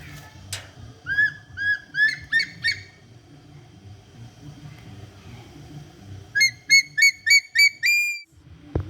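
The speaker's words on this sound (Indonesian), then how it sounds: "Ini elang hitam." Bright whistled calls of a black eagle in two quick bursts of repeated upslurred notes, with a quiet gap between, over a low rumbling background.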